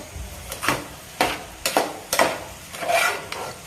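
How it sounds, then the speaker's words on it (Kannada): A spoon stirring and turning over food in a pan while cooking dal sambar and jeera rice, giving a series of distinct scraping strokes, about six in a loose rhythm, close and fairly loud. "ಎಲ್ಲನೂ ಮೇಲೆ ಕೆಳಗೆ ಮಾಡ್ಕೊಳ್ಳಿ. ಎಲ್ಲನೂ ಮಿಕ್ಸ್ ಆಗಬೇಕಲ್ವಾ"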